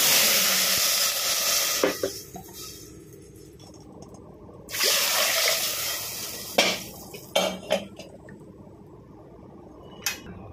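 Water goes into a hot cooking pot for lapshi, bursting into loud hissing sizzles that fade and return, with a few sharp clinks and pot knocks between them.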